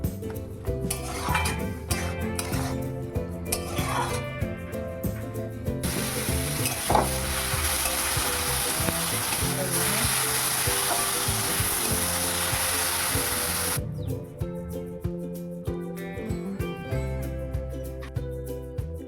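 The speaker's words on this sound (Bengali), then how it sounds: "মাছ ভাজা হচ্ছে, মাছের ঝোল বানাবো।" Fish sizzle loudly in hot oil in a pan before going into a fish curry. The crackle swells in the middle and comes with occasional stirring clinks and pan knocks.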